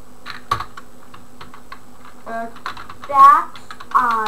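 Someone types code comments on a computer keyboard, with close, irregular key clicks in short bursts and a voice speaking briefly between them.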